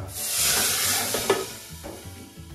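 Marathi phodni, a spice tempering, sizzles and hisses in a hot pan as it is stirred, loud at first and then tapering with a few crackles.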